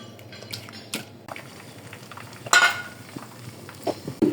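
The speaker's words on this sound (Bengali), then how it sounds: "আমি এখন ডিম ভাজতেছি" An egg sizzles in a pan with a low steady crackle, broken by a few sharp clinks of a utensil against the pan.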